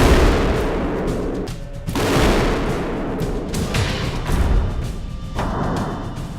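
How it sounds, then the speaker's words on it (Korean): Gunshots fired at layered bulletproof body armor in a ballistic test land as several loud, sharp reports. Each one is spaced a second or two apart and followed by a reverberant outdoor decay, with no talk. "이렇게 6번의 사격이 무사히 완료됐습니다"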